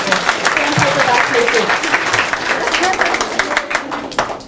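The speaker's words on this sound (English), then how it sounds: "Give her a round of applause." A bookstore crowd at a University Book Store author event breaks into loud, continuous clapping that tapers slightly toward the end.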